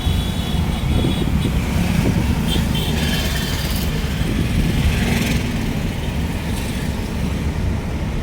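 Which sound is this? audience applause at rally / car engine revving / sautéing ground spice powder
car engine revving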